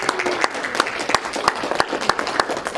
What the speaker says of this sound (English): please give Peyton a round of applause